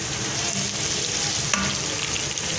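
Nigella and fenugreek seeds sizzle loudly in hot oil in a pan for a pumpkin dish. The hiss is dense and continuous up close, with a few small crackles and stirring scrapes on top, and no one speaks.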